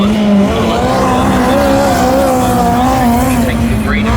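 A midget race car drones around a speedway track during qualifying, its engine a sustained loud buzzing whine that rises and falls slightly through a turn, with the commentator talking over it.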